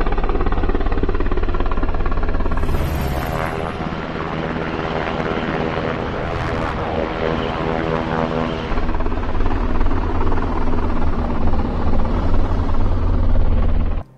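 Helicopter-like vehicle from the video game Halo Infinite, a continuous loud rotor and engine hum with a whining tone, dipping slightly midway before swelling again, heard alone without speech.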